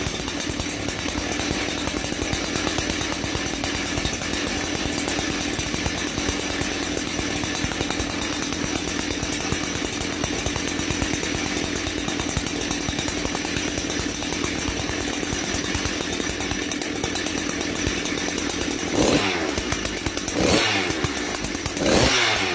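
A new Husqvarna 365 chainsaw roars at close range, its two-stroke engine buzzing steadily with revving fluctuations, followed by clattering thumps and a brief change in pitch near the end.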